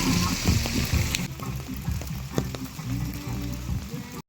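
Steady rain patters onto a street at night in Sigiriya, Sri Lanka, a dense continuous hiss with occasional louder drips and some faint background voices.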